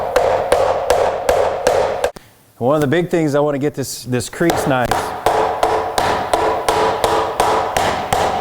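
Steady, rhythmic mallet blows ring on sheet metal shaped over a form up close, pausing briefly while someone speaks, then resuming at the same even pace.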